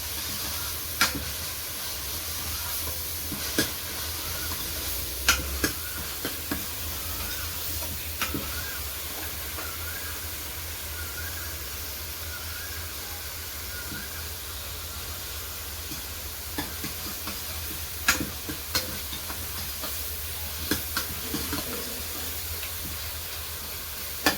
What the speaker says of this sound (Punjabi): ਹਾਂਜੀ ਪਿਆਜ਼ ਭੁੱਜ ਗਿਆ ਆਪਣਾ